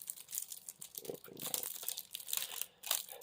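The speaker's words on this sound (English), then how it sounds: "open this package up." Plastic packaging on a Marvel Champions Ms Marvel hero pack card set crinkles and tears as it is opened, a short close burst of crackling and rustling with no talk.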